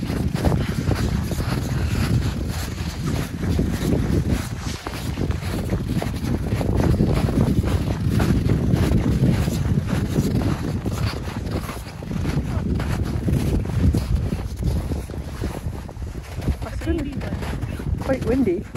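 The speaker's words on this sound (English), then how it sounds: "Quite windy." Strong winter wind buffets an outdoor winter camp in snowy Boundary Waters country, a steady loud roar with gusty rumbling pulses against the microphone throughout, with occasional voices underneath.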